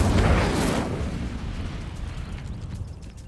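The Incendio fire spell cast in Hogwarts Legacy, a loud fiery burst that erupts at once and then fades into a rumbling, crackling tail.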